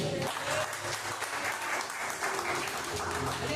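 A church congregation claps in praise, a steady, dense wash of applause filling the room throughout, with some voices mixed underneath.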